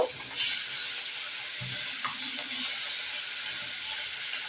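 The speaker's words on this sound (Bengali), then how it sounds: "মাছটাকে একটু ভালো করে ভেজে নিতে হবে তো বন্ধুরা দেখুন এ পাশটা আমার ভাজা হয়ে গেছে আর এ পাশটা আমি ভেজে নেব" Tilapia fish frying in hot oil in a pan gives off a steady, dense sizzle and hiss, with a brief low bump partway through and no talking.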